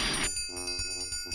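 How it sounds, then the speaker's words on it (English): A cartoon dinner bell gives a short, light ringing tinkle with clear sustained tones, faint and brief. "Ah, the tempting tinkle of the dinner bell."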